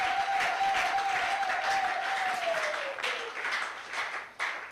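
A church congregation applauds to acclaim the Lord, a steady wash of many hands clapping that fills the room, thinning toward the end, with a sustained tone running beneath the first few seconds.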